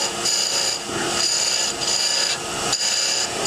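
A parting tool shaping a bead on spinning wood on a lathe, giving a close, steady rasping hiss with high whining tones that pulses slightly as the cut is rolled.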